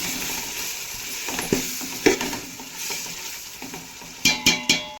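Ginger-garlic paste frying and being stirred in a pan for biryani, a steady close sizzle broken by several sharp utensil scrapes and clanks, with a quick cluster of clatters near the end.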